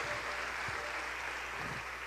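A church congregation applauding during a 44th anniversary celebration service, heard as faint, steady, dense clapping that lasts the whole moment.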